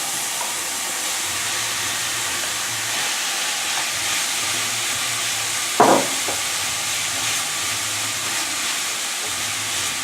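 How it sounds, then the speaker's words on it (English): Minced meat frying in a pan gives a steady hiss and crackle throughout, with one brief louder clatter of stirring near the middle, close and even, with no talking. "We're going to cook it until the mince browns evenly."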